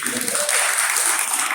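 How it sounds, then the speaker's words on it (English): A big round of applause at a national day of reflection event in Conway Hall, London: dense audience clapping, loud and sustained, with some voices mixed in at the start. "let's give a big round of applause to Tashini"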